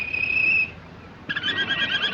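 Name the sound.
caged bird singing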